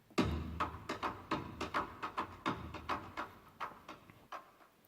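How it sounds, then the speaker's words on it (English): A percussion track run through a ping pong delay effect, with quiet, evenly spaced hits that repeat and echo in a steady rhythm, each followed by a decaying tail, with no talking. "This is a percussion track that has ping pong delay on it."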